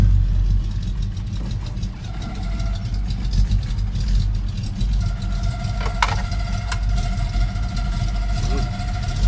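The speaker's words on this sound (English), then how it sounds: "That's a noisy air conditioner crapping out right over there." Loud, continuous mechanical droning of a failing air conditioner, rough and rumbling, with faint higher whines and a couple of brief clanks.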